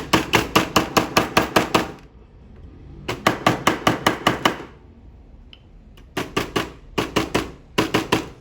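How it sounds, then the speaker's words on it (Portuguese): Horn mallet hammering the ends of a silver ring together on a wooden block, in three bursts of rapid, sharp, evenly spaced taps with short pauses between. "esse é meu martelo de chifre"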